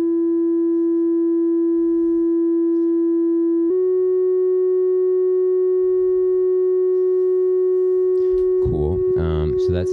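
Eurorack modular synth oscillator whose pitch is driven by mushroom biodata through an Instruo Scion, sounding as a steady pure electronic tone that steps slightly in pitch, then a burst of rapid chirping modulations near the end.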